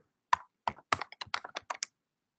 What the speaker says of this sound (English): If I were to type in Skywalker